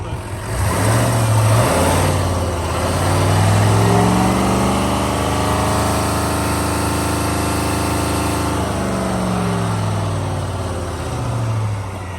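A 2022 Chevrolet Silverado 2500 High Country with a Duramax diesel revs up to about 3,500 RPM while parked, a deep, loud engine drone rising steadily, holding high, then falling back toward idle.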